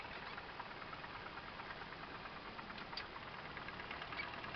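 Tractor engine running while pulling firewood out of the woods on a farm, a steady mid-pitched drone with a knocking rumble heard from a distance, no voices.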